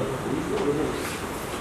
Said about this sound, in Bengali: এটা অনেক সুন্দর একটা কবুতর